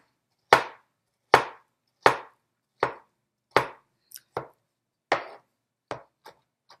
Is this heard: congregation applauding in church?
no